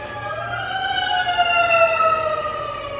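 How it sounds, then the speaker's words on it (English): An ambulance siren wails in steady, slowly bending tones, fairly loud and sustained throughout without speech. "because it was an ambulance"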